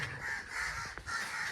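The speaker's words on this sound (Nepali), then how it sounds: "काग पो रहेछ" A crow caws a couple of times at moderate distance during a village walk in Gorkha, its brief calls rising over a steady outdoor hum of background noise.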